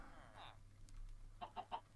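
In Minecraft, a quick series of three short chicken clucks follows a softer earlier cluck, faint against a low background hum.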